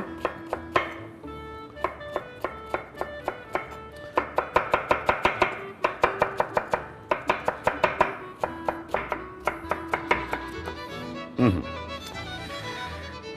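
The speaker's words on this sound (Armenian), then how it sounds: "Հիմա կաղամբը կկտրատենք, միասին կերվի։" Cabbage chopped with a knife on a board, a long run of quick, sharp, evenly spaced thuds at close range, pausing briefly and resuming, with no talking.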